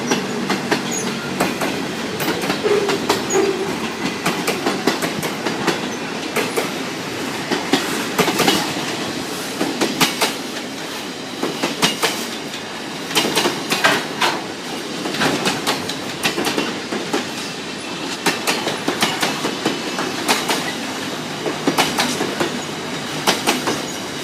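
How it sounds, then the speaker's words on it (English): A long freight train on a Melbourne suburban line rolls steadily past nearby, its wagons keeping up a continuous rumble with rhythmic clickety-clack from the wheels over rail joints and occasional faint squeals, with no voices. "coming towards the end of the freight train now."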